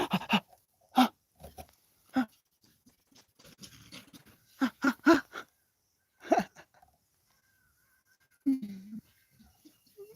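Dogs pant and scuffle while playing upstairs, with rapid breathy bursts in short clusters separated by quiet pauses, fairly close and distinct.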